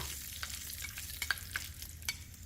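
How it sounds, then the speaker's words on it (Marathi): Asafoetida, curry leaves and dried red chilli tempering in hot oil for coconut chutney, a steady crackling sizzle with several sharp pops spread across the moment. "हिंग दोन चिमूट कढीपत्त्याची पाच ते सहा पाने एक लाल सुक्या मिरचीचे तुकडे परतून घेऊया"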